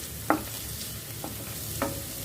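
Onions frying in a pan in an Indian kitchen while cooking baingan (brinjal) masala, a steady soft sizzle broken by three brief scrapes of stirring, close and alone with no talk.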